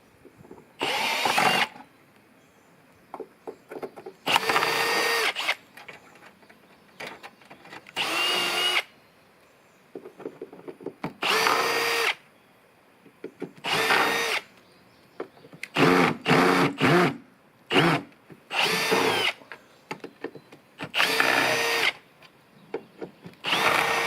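Power drill backing screws out of a wooden panel at a work shack, in repeated short bursts of whirring spaced by pauses, loud and close with no talking.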